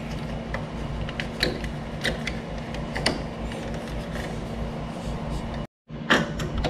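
Fuel tank parts on a Kawasaki Voyager VN1700 motorcycle are slid and worked into place, giving scattered creaks, clicks and light mechanical scrapes over a steady background hum, with a brief cut to silence near the end.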